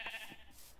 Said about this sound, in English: I found another sheep.